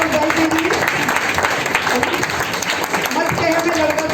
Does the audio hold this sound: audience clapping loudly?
yes